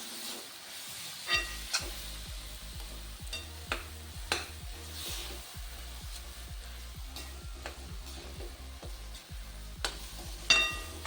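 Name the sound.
sautéing brinjal bharit in a pan on medium flame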